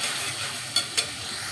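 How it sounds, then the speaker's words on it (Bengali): Masala being stir-fried for a shrimp and pumpkin curry, a steady soft sizzle with two sharp spatula scrapes against the pan, close and alone without talk. "একটু কষাতে হবে।"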